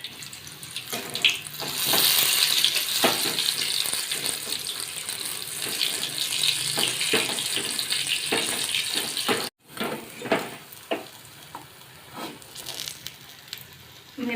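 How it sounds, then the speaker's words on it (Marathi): Chili bhaji (mirchi bhaji) deep-frying in hot oil after being flipped: a loud, dense bubbling crackle heard up close that runs continuously, briefly cuts out, then resumes with sharper pops. "मिरची भजी आता आपण दुसऱ्या साईडने तळून घेऊया"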